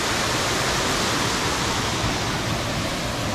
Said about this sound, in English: Beautiful, beautiful waterfall.